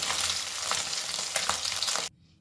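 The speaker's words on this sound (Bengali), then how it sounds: "মাছগুলো লাল করে ভেজে নিয়েছি, এবার এগুলোকে আমি" Bhetki fish fry in hot oil with a dense, loud, steady sizzle and a few sharper pops, and then the sound cuts off abruptly.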